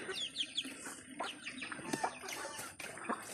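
Chickens clucking and squawking nearby in short repeated bursts, several birds calling over one another with brief gaps.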